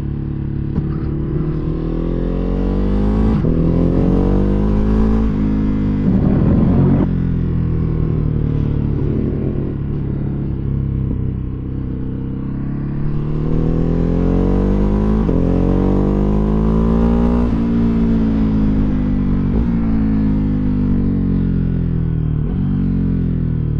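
A Ducati motorcycle engine accelerates hard through the gears, the pitch climbing then dropping sharply at each quick-shifter change, several upshifts in a loud, close, continuous run with no talk.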